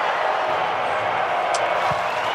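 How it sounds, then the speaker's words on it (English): At the 2021 NFL Draft, a crowd roars as the Jacksonville Jaguars take quarterback Trevor Lawrence first overall, a dense, steady wash of cheering that holds at one level throughout. "let's just hear the announcement and hear how the crowd reacted to that"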